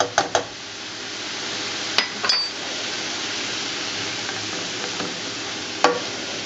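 Mushrooms cooking down in a pan for chicken tetrazzini: a continuous sizzle with a few sharp utensil clinks and knocks on the pan, close and without talking.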